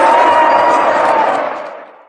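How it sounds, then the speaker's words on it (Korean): Onlookers at a traditional ssireum wrestling match let out a loud, sudden roar of surprise, a dense crowd shout that holds briefly and then fades away. "덕령은 물론이고 구경꾼들도 깜짝 놀라 엄청난 함성을 내질렀다."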